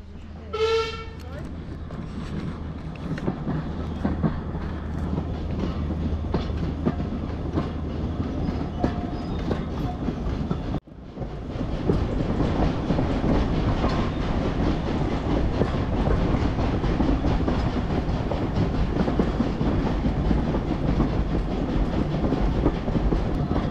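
Adams O2 class 0-4-4 steam tank locomotive No. 24 running on a heritage railway, a steady loud rumble of train and carriages with a short whistle blast near the start and a brief dip midway.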